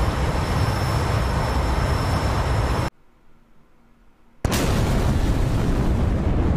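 A supersonic jet's sonic boom in a flight simulator game: a loud, sustained broadband roar that suddenly cuts to near silence, then slams back in just as loud.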